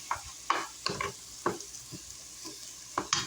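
Lean ground turkey and garden vegetables cooking together in a pan for chili, a low sizzle broken by repeated spatula stirs and scrapes at an irregular pace, close and without voices.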